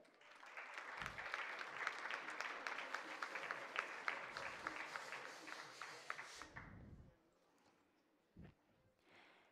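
An audience at a regional speech contest award ceremony claps in a sustained burst of applause that fades out near the end, leaving a few scattered thumps and quiet room noise.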